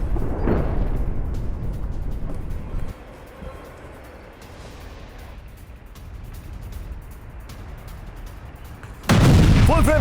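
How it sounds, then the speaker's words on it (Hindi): Israeli missile strike near the Beirut airport runway, heard as a loud, deep rumbling boom with a long, shifting roar, then a sudden heavy blast near the end. "रनवे से कुछ ही दूरी पर गिरी इजरायली मिसाइल"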